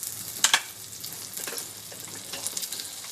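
Butter melting in a hot pan for an omelette, with a light close crackle and sizzle and a few sharp pops near the start, soft and steady with no voice.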